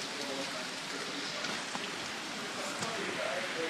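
Hurricane Sandy rain falls in a steady, hissing downpour outdoors, even and fairly loud throughout with occasional heavier spatters, with no voices over it.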